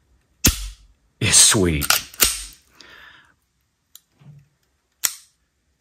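A PSA Micro Dagger pistol dry-fired: sharp mechanical clicks of the trigger breaking and resetting, close and crisp, with a short spoken remark in between.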